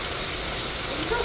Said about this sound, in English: Pounding rain right now.